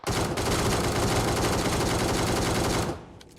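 Sustained rapid automatic gunfire in PUBG Mobile, a loud unbroken burst of densely packed shots lasting nearly three seconds before cutting off abruptly into a brief quiet tail.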